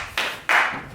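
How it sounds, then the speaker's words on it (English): Two sharp hand claps ring out on a farm in the Adirondack Mountains to flush pigeons during a hunt, spaced about a third of a second apart, moderately loud with a short room-like decay. "Sometime you can clap your hands."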